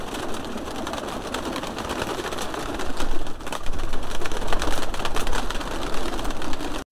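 Lotan roller pigeons coo at a hobby pigeon loft, their calls blending into a dense, steady wash of noise that grows louder halfway through.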